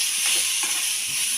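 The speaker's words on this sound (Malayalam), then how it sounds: "ആ നെയ്യിൽ തന്നെ നമ്മൾ നേന്ത്രപ്പഴം മുറിച്ച് വെച്ചത് ഒന്ന് വഴറ്റിയെടുക്കാം" Ripe nendran plantain pieces sauté in hot ghee, giving a steady, close sizzling hiss that holds evenly throughout without a break.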